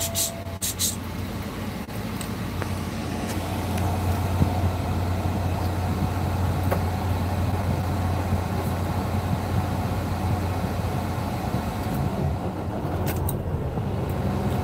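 Steady low drone of a new semi truck's engine heard from inside the cab, a muffled continuous rumble with a strong low hum holding evenly throughout, no voices present.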